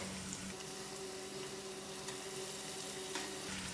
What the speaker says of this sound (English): I'm going to gently place in my meat to fry out.